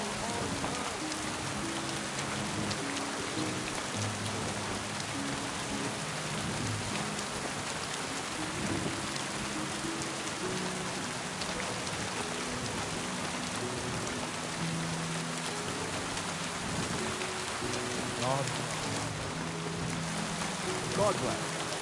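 Steady rain falls across a medieval town in Kingdom Come Deliverance 2, a constant hiss of drops on surfaces running the whole way under low background sounds and scattered voices.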